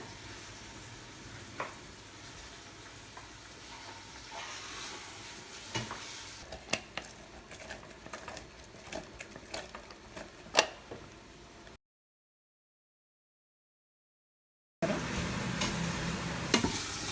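Onions and green chillies in oil are stirred and pressed with a ladle, giving repeated scraping clatters over a steady low sizzle; the sound drops out briefly before a louder, brighter sizzle returns.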